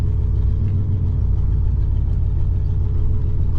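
A 1963 Pontiac Catalina engine rumbles low and steady close by as the car pulls away slowly after the brake is released, with no voices.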